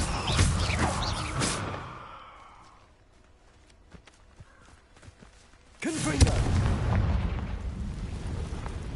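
Explosive Confringo spell blasts in the video game Hogwarts Legacy; loud booming bursts open and close the stretch, with quieter thumps and rumble in between.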